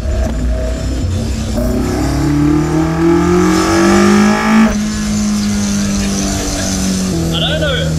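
A Toyota AE86 Trueno with a 4AGE engine on individual throttle bodies revs hard on a mountain road, rising and falling engine pitch heard from inside the car, with someone talking over it.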